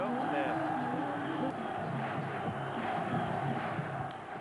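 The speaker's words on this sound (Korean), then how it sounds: "관중석에서 터져나오는 탄식." A packed baseball stadium crowd at a Korean pro game lets out a broad, sustained groan of disappointment, a dense wash of many voices in steady murmur that holds for several seconds.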